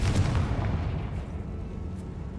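A Confringo blasting spell goes off in the Hogwarts Legacy game inside a tomb, giving one loud booming blast at the start whose deep rumble fades slowly over the next couple of seconds.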